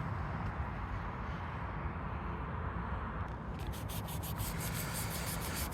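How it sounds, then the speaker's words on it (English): Close, continuous rubbing of sandpaper scrapes steadily across the painted plastic mirror base of a 1989 Nissan Sentra B12, quickening into rapid strokes near the end. "I'll just keep sanding down here."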